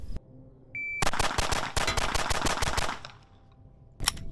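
Rapid burst of Glock 43X striker-fired pistol shots, roughly a dozen sharp cracks fired in quick succession, loud and close, followed by a pause and one more isolated shot.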